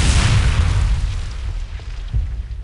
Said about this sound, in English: let's go ahead and try the grenade